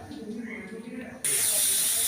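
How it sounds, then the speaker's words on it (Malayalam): Curry leaves, onion, pepper and cumin hitting a hot pan, a sudden loud sizzling hiss that starts after a moment of quiet talk and continues steadily. "കറിവേപ്പ് ഉള്ളി കുരുമുളക് ജീരകം ഇതൊന്ന് ചൂടാക്കി എടുക്കട്ടെ"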